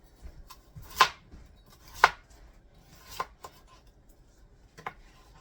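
A knife chops an onion on a cutting board in a home kitchen, a few crisp separate thunks spaced about a second apart, close and clear with quiet between strokes.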